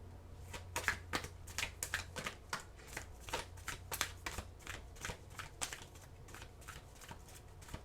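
A deck of oracle cards is shuffled by hand: a continuous run of rapid, crisp riffling flicks, close and fairly soft, repeating for several seconds without talk.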